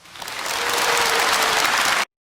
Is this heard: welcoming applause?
yes